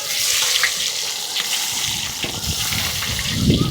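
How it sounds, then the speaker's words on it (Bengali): Chopped onion hitting hot oil spiced with bay leaf and panch phoron, a loud, steady crackling sizzle close by with faint stirring scrapes. "এবার দিয়ে দেবো পেঁয়াজ কুচিটা।"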